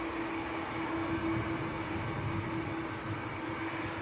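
An Aer Lingus airliner departing Manchester Airport for Orlando gives a faint, steady distant engine rumble with a sustained whining tone, no voices present.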